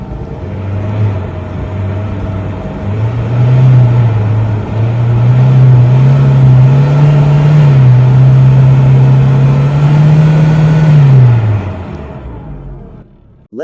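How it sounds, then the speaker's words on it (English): VW Passat engine with a power-loss fault, revved in neutral with the pedal floored: a loud, steady mid-pitched engine hum climbs briefly, then holds a flat drone without rising, before dropping away at the end. "In neutral position, the RPM won't go up, even when pressing the gas pedal to the maximum."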